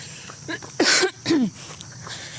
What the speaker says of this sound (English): I cough and then we'll go